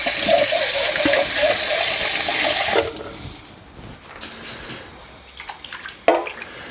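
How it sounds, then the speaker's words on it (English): Water running into a paint-style can for rinsing it out in a home kitchen, a steady loud pour for about three seconds, then quieter clinks and splashes. "Grab some water, clean out my can, and thin this down a little bit"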